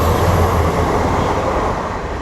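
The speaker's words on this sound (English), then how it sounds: "Actually, there's a fast train coming." A loud, steady rumble of a fast train rushing past close by in London, slowly fading slightly toward the end, with no voices.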